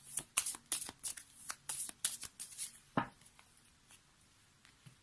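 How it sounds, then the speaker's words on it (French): A tarot deck is shuffled and then cut by hand, giving a steady run of crisp, close card riffles and flutters that thin out into a few sparse slaps and taps toward the end, with no voices. "il nous sort beaucoup trop de cartes. Donc, on va être obligé de couper."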